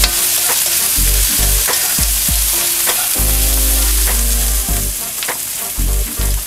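Julienned onions sautéing in hot oil for pancit canton guisado, with a loud steady sizzle and repeated scraping stirs and clinks of the utensil against the pan, close up and without talk.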